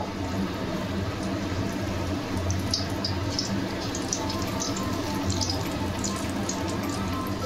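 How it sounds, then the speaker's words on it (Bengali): Pakoras deep-frying in hot oil in a wok, a steady dense sizzle and crackle with scattered bright pops, close and continuous without talk. "এরকমভাবে আমি সব পকোড়াগুলো ভেজে নেব।"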